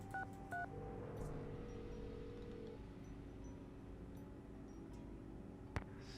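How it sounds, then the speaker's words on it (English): Telephone keypad tones in the Nancy Drew game Secret of the Scarlet Hand: a few quick beeps of an unfinished number, then a longer steady tone over a low hum, with a sharp click near the end. "I didn't finish dialing!"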